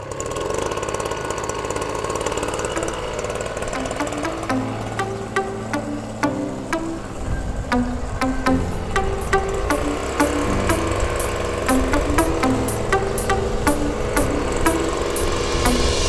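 A small two-stroke backpack power sprayer engine runs steadily and fairly close in a rice paddy, buzzing at a constant idle before picking up speed, with sharp rhythmic ticks throughout.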